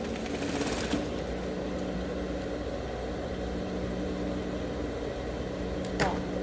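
A sewing machine runs steadily while stitching fabric for a jewelry box, a continuous low mechanical whir with light clicks at the start and end, under someone speaking.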